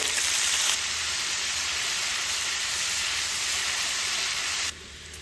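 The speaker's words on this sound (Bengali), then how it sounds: "গোটা জিরা, জিরে গুঁড়ো, হলুদ গুঁড়ো, লঙ্কার গুঁড়ো, সামান্য একটু জল দিয়ে মশলাটাকে কষিয়ে নেব" A spice paste of bay leaf, whole cumin, ground cumin, turmeric and chili powder with a little water frying in oil, giving a loud, steady, close hiss and sizzle that drops off sharply near the end, with no talking.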